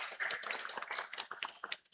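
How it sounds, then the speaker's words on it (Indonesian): Quiet, scattered hand clapping from a Sunday school group of children at a Batak-language church service, brief and uneven, with faint chatter mixed in. "Tepuk tangan."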